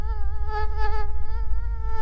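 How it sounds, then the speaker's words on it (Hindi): Mosquitoes buzz close to the ear in a steady, loud, high whine that holds for about two seconds with no voices. "मच्छर बहुत हो गए इधर है"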